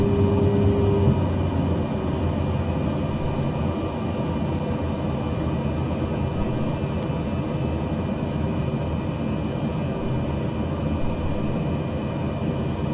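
Airplane engine drone on a landing approach with flaps set, in Microsoft Flight Simulator 2020, a steady broad hum holding even and continuous without change.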